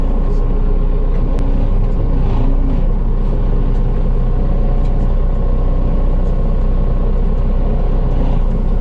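A heavy vehicle drives inside a building, its loud, steady engine rumble and drone filling the space throughout with a continuous low roar.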